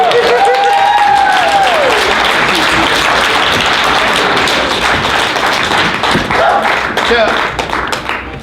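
An audience at an acting workshop claps in a loud, sustained round of applause. A voice briefly rises over the start, and the clapping thins out toward the end.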